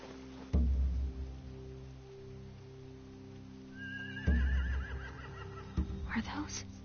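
A horse whinnies in The Walking Dead video game, a rising, wavering neigh in the later part of the clip, set over a steady low ambient hum with a few thuds, while a person talks at moments.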